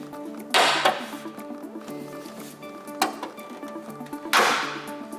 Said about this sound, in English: It means that the grill is actually clipping to the hood.